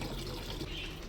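Water runs steadily from a household tap into a container being filled, a continuous close-up rushing hiss with no pauses.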